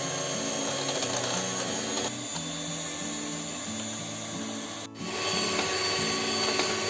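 An electric hand mixer whips cream for a small homemade cake, producing a steady mechanical whir with shifting tones and rattling, close and continuous.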